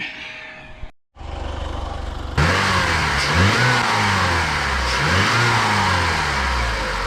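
A Chrysler Sebring 2.4-liter four-cylinder starts after a timing belt and water pump replacement, cranking briefly before catching and settling into a steady, close idle with a few rising revs.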